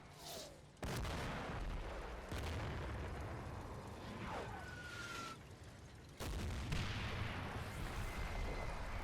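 Artillery fire mission in the World War II game Combat Mission: Battle for Normandy, heard as repeated loud booming blasts and rumbling impacts with sharp onsets at intervals, alone with no talk.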